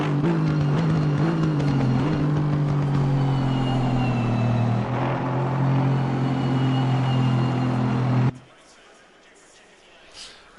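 NXTGEN race cars lapping Mount Panorama at Bathurst during qualifying for the 12 hour event, a steady droning engine note that holds loud for several seconds, then cuts away to near quiet, with talk over it.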